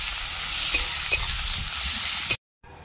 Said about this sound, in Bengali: পেঁয়াজটা একটু লাল লাল করে ভাজা হয়ে যাক